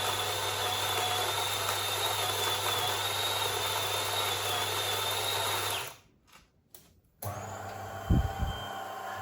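A De'Longhi coffee machine's built-in grinder grinds beans in a loud, steady whirring drone for about six seconds, then cuts off, followed by a couple of short mechanical bursts.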